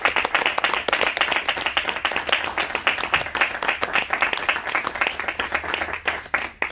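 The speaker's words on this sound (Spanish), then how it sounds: "Un fuerte aplauso para Ernesto" Audience applause at a book presentation at ESIC University, steady dense clapping from a room full of people, loud and continuous for several seconds with no talking over it.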